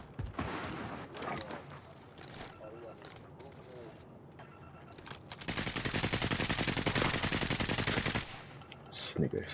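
Sniper gunfire in Call of Duty: Resurgence, a few sharp shots between players talking, then a long sustained burst of rapid gunfire near the end.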